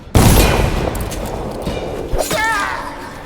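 Guards firing guns in the video game Dishonored: a sharp loud burst of gunfire opens, followed by scattered thuds and impacts over a couple of seconds, with a brief voice cry near the end.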